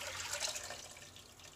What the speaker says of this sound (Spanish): Ahora le voy a estar agregando el agua a nuestra olla.